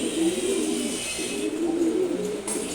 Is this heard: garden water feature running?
no